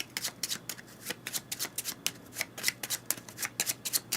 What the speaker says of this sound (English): We'll shuffle these up.